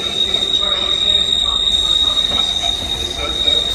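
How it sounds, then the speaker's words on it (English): An East Midlands Railway Class 158 diesel unit pulls into Manchester Piccadilly, its wheels squealing loudly and steadily against the rails over a continuous rumble, with a high whine throughout and faint chatter from the platform. "coming in now is another East Midlands Railway 158"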